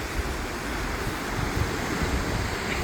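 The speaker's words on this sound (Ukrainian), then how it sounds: "Вітрюган." Strong wind gusting at a Black Sea shore on an overcast day, blended with rushing surf; a dense, continuous roar with heavy buffeting on the microphone.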